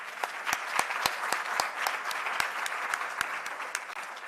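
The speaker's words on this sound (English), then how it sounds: "can we just give all the speakers the last round of applause?" Audience applause at a researchers' symposium rewards the session speakers: a steady, fairly close wash of many hands with distinct sharp claps standing out, sustained for several seconds.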